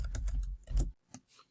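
Keys clatter on a computer keyboard in a quick burst of close, crisp taps, then a few scattered strokes trailing off into quiet.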